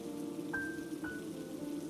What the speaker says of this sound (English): it was raining lightly